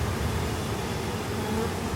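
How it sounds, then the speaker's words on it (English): Honey bees buzz around an open hive during a honey frame inspection in a dense, continuous hum, close by and steady throughout, with no talking. "Watch out, bees."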